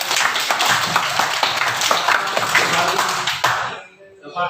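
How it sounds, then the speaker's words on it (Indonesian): A class of students claps for a classmate during a physical education lesson, dense clapping for about three and a half seconds that then cuts off, leaving a quiet room. "tepuk tangan untuk Januba"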